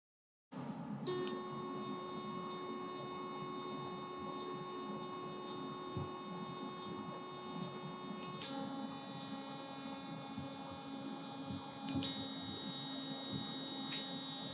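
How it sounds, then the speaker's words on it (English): An APEX Sonic electric toothbrush runs steadily through its cleaning modes, a close, constant high-pitched buzz that shifts in tone at each mode change, with no talking. "Please be the judge on the next sound noise with the 4 cleaning modes: clean, polish, white, and gum care."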